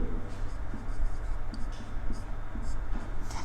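Chalk or marker writing on a classroom board during a biology lecture, a steady scratchy stroking sound running throughout with no speech over it.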